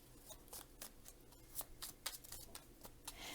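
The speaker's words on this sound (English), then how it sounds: "Sometimes in the middle of shuffling a deck" A deck of tarot cards is shuffled up close, giving a series of crisp riffling snaps and soft slides in an irregular rhythm, quiet with no talk.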